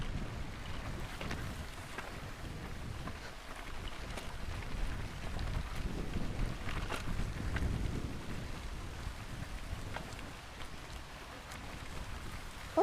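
Hard rain and gusting wind roar steadily outdoors during a muddy off-road motorbike ride in Caratal, Trinidad, a dense continuous wash with no voices.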